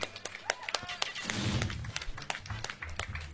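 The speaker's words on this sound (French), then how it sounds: "Allez, on applaudit bien fort les deux joueurs." Audience at a Super Smash Bros Wii U tournament top-three match applauding the two players, with scattered, uneven claps over murmuring voices and crowd noise.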